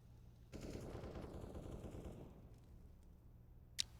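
Rapid bursts of pistol fire in a CS:GO match on the Mirage map, Sprout playing with pistols only, a sustained crackle of close shots running for about three seconds, followed by one sharp isolated report near the end.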